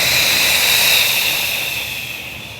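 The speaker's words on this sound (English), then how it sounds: "And then you exhale down." A deep, slow exhale during a qigong breathing exercise, close and breathy, holding steady before tapering off over about three seconds, with no talking.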